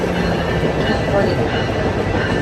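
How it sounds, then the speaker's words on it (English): A train rumbles past close by near the beach at Oceanside, California, a steady loud rolling roar of rail cars over the tracks that fills the whole short stretch. "There's the train."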